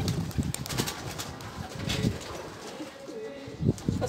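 Pigeons coo in soft repeated low phrases at close range, with faint chirps and scattered bird movement throughout.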